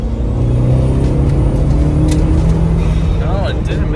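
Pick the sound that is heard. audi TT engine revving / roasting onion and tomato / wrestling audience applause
audi TT engine revving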